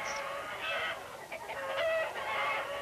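Hens clucking on a poultry farm in an old educational film, a steady run of soft, overlapping clucks and murmurs heard at moderate distance with no talk.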